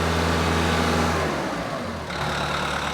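A Kubota LX3310 compact tractor engine runs loud and close near full throttle, a dense rough drone that dips briefly in the middle before holding high again, with no voices.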